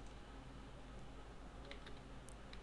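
Ctrl+F pressed on a computer keyboard: a few faint, quick key clicks near the end over a steady low hum, with no talk.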